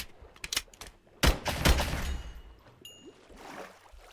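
Gunfire in a Minecraft Jurassic Craft mod, a few sharp shots in quick succession, the loudest burst near the middle, with faint clicks and game noise between them.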